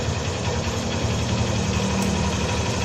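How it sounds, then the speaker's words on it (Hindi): Car engine running after its battery was boosted and it was started on the self-starter, a loud steady close drone held at raised revs with no talking. "अब हम एक बार इसमें सेल्फ लगा के देखते हैं कि ये चालू होती है नहीं होती है"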